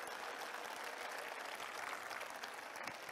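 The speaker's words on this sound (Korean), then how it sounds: "애들한테 여러분 박수 한번 다시 한번 보내주셔야 됩니다" Audience at a talk concert applauding, a faint, dense, even wash of many hands clapping with no talk over it.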